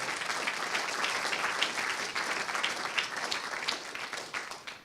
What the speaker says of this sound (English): So a round of applause to our